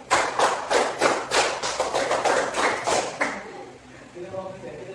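Students in a class clap a five-beat pattern twice, a quick run of about ten loud, crisp group claps that stops abruptly, leaving quieter room sound.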